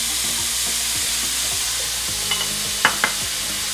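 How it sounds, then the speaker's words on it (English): Ground lamb frying in a pan and being broken up with a pair of spatulas: constant hissing sizzle with a few light scraping taps near the end, over quiet background music. "And we're going to place the lamb in the pan. And you want to break it up. I like to use a couple of spatulas."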